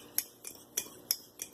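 Fork scrambling eggs in a mug, five sharp metallic clinks spaced at a brisk, slightly uneven rhythm, close and clear with no talking.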